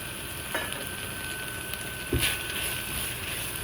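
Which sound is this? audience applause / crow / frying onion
frying onion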